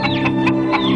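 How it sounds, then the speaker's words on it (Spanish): Cartoon chickens cluck in a quick, close burst of several sharp clucks over a steady background tone, from a Cuban animated cartoon. "Pedrito, las gallinas no toman té con..."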